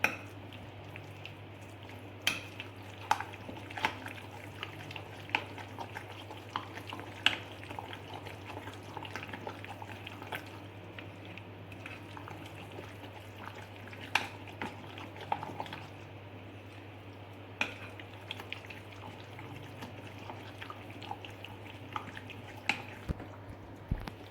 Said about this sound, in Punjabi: ਇਹਨੂੰ ਹੁਣ ਆਪਾਂ ਚੰਗੀ ਤਰ੍ਹਾਂ ਮਿਕਸ ਕਰ ਦਿੰਨੇ ਆ